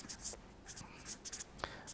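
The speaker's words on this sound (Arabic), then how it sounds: "let me write the definition because it's very important" A definition being handwritten, soft scratchy strokes of a pen or marker in short bursts, quiet and close, with no talking.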